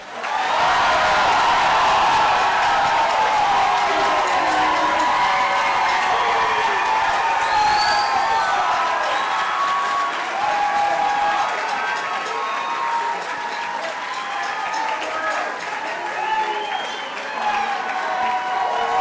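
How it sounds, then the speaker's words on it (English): A graduation ceremony audience gives sustained, dense applause for the graduating class, loud and continuous throughout, with some cheering mixed in. "Please turn and receive the audience applause."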